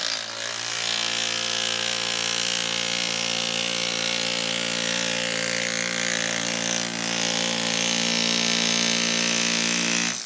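A power mallet cutting thick leather gives off a loud, steady mechanical buzz with a humming motor tone, running unbroken for about ten seconds with no talking.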